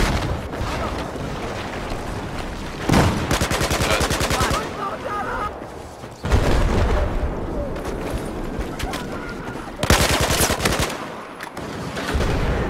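Full-auto AK-12 rifle fire in the Battlefield 4 video game, long rapid bursts of gunshots broken by brief pauses, loud and continuous throughout.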